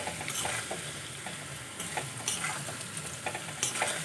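Chili powder and spices fry in a pan while being stirred, a quiet steady sizzle broken by scraping strokes, close up with no voices.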